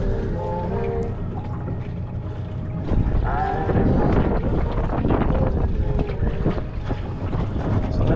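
Small boat outboard motor running steadily in strong wind, its drone under heavy buffeting wind noise on the microphone, growing louder about a third of the way in.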